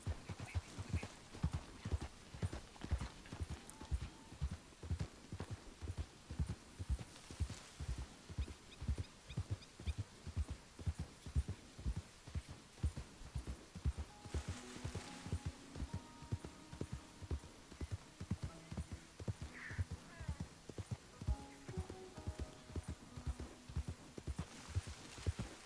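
Horse hooves clip-clop in a steady, continuous rhythm through Red Dead Redemption 2 gameplay, the quiet repeating beats carrying on for the whole stretch with no talking.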